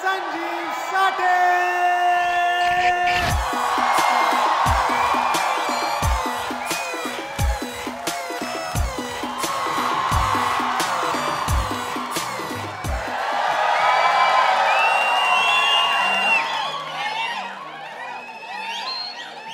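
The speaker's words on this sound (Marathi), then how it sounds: "मला एवढ्या एवढ्या टाळ्या सहन नाही झाला रे मुंबईकरांकडनं" A Mumbai audience at a Marathi standup comedy show breaks into loud applause with whoops and cheers, rhythmic clapping swelling in waves and continuing throughout.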